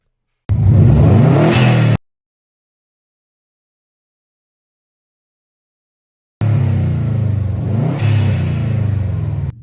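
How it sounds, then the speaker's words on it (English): Subaru WRX fitted with a dump valve, revving in two loud close bursts separated by silence, each rising engine roar ending in a sharp whooshing release. "I'll show you what the Scooby now sounds with a dump valve"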